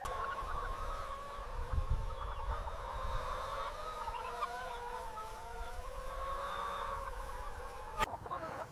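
Bresse chickens and a rooster on a French farm, soft clucking and murmuring calls drifting over a low steady background, fairly quiet and continuous, with one sharp click near the end.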